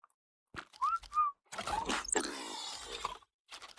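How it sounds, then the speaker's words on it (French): A whistle command in the game Ark Survival Ascended, heard as two short rising tonal chirps, then a denser burst of game sound and a faint final blip. "sifflement il marche quand il veut"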